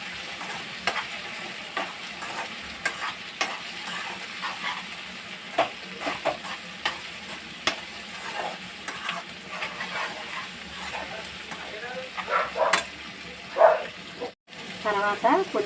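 Carrot, soy meal maker chunks and cashews fry in hot oil in a pan for egg biryani. A continuous close sizzle carries irregular stirring clatter and scrapes, rising briefly near the end.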